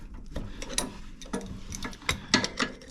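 A ratchet wrench clicks in short, irregular bursts while bolts are cracked loose on the sprocket of a John Deere 826 snowblower, with metallic ticks and light clanks nearby.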